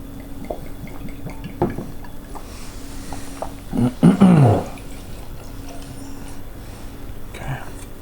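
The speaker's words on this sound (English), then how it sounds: "let's try a brand new bottle. We're gonna get into the neck pour on this." Ledaig 10 peated single malt Scotch whisky poured from a freshly opened bottle: one short gurgling splash of liquid near the middle, set against quiet room tone with small knocks before and after.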